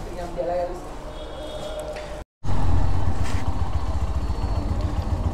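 A GPX Demon motorcycle rumbles along the road, its engine droning steadily close by. After a brief dropout the rumble returns louder and continues without a break, with voices talking over it.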